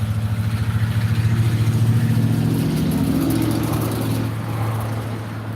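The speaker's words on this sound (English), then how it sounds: "big truck again" A big truck rumbles past on a road close by, its heavy low engine drone loud and steady before fading slightly as it moves away, with no talking.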